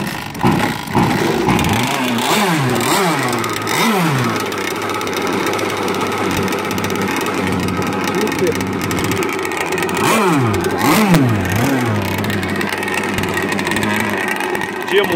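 A gas-powered scale RC unlimited hydroplane boat engine runs in the pits at a race. It drones steadily and loud, rising in sharp revving bursts near the start and again later, while people talk.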